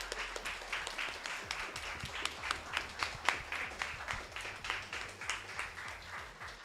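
The audience at the CHUNIMAI Championship grand finals in Singapore applauds, a continuous patter of many hands clapping at a moderate distance.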